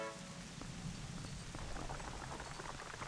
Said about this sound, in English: Stop the rain.